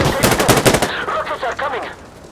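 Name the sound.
gunfire in the video game Insurgency: Sandstorm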